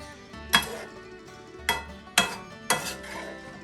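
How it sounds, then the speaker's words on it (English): Sausage egg roll filling is mixed in a pan, four distinct scraping clanks of a utensil against the metal spaced over a few seconds, over a soft low background hum. "and then mix it together"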